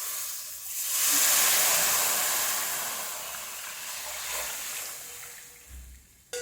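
Tamarind and beetroot juice hits a hot pan with a loud, broad sizzling hiss that peaks early, then slowly fades and settles.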